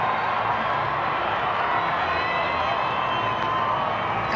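Steady, roaring wash of a rugby stadium crowd during a Sharks versus Lions United Rugby Championship match, loud and unbroken, with cheering and shouting blended into a constant din.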